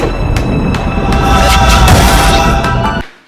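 A reversed section of a song, looped back into itself, swells into a dense, loud wash of sound with pulsing transients, then cuts off abruptly near the end.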